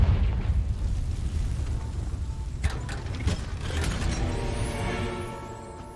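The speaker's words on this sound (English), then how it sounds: "Confringo" A Confringo explosion spell cast in the video game Hogwarts Legacy, a rumbling blast with mechanical clatter and crackle, loud throughout and swelling in the middle.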